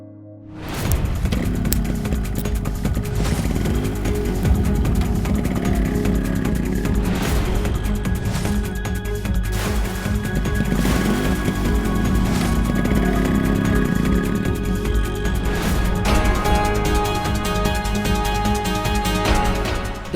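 A motorcycle approaching, its engine revving and droning loudly and continuously, with the pitch rising and falling in several surges.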